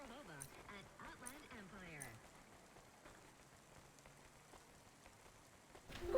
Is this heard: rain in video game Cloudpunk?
yes